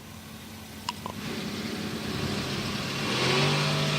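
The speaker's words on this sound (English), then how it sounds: "Truck takes off with Dunaway first." A drag racing truck at the IHRA Team Finals Gamblers Race revs, then its engine swells louder near the end as it launches off the line, heard at a distance over steady outdoor track ambience.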